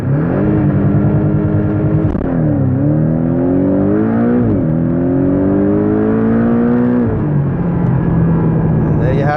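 A 2018 Porsche 718 Boxster GTS, a mid-engine car, launches with launch control: the engine roars close and loud, climbing in pitch through several gear changes, each marked by a brief dip before revving again.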